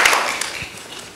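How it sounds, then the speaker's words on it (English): Audience at a Toastmasters meeting breaking into applause, a dense burst of clapping that starts strong and gradually thins over a second. "please, can you give yourselves a round of applause again?"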